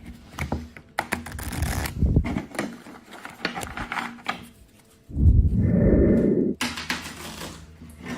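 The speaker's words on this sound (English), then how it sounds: "You caught me here in my garage shuffling up a deck of regular cards." A deck of ordinary playing cards is shuffled in a garage, with repeated riffling bursts and soft slaps separated by pauses, close and fairly loud, alongside a longer rushing spell.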